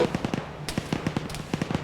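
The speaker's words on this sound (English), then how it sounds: "we got shots whizzing by our head here" Sniper gunfire cracking past overhead: a rapid, irregular string of about a dozen loud, sharp snaps packed into under two seconds, with no talking.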